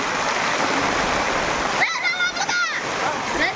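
Rain pours down as a loud, dense hiss. Partway through, the roar thins and a person talks over the lighter patter.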